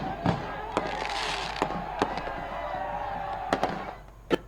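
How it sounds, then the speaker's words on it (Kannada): Firecrackers burst in a celebration of India's Champions Trophy 2025 cricket win over New Zealand, sharp loud bangs popping irregularly over a dense crackling roar. "ಪಟಾಕಿ ಸಿಡಿಸಿ ಎಲ್ಲೆಲ್ಲೂ ಸಡಗರ ಸಂಭ್ರಮ"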